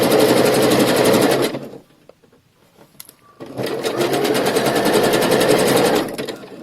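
A sewing machine stitches elastic onto panties in two fast, loud runs of rapid needle chatter separated by a brief pause with small handling clicks.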